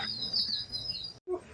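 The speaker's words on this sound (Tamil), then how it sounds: "குயில் கூவுது பார்த்தீங்களா, எவ்வளோ அழகாக குயிலின் குரல் இனிமையாக இருக்கிறது நம்மளோட காதுக்கு." A koel calls close by at a home among fruit trees, a short run of bright, clear whistled notes that cut off abruptly, then a brief softer note after a pause.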